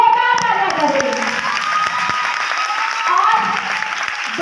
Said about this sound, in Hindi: तो हम चाहेंगे एक बार आप अपने लिए जोरदार तालियां करें।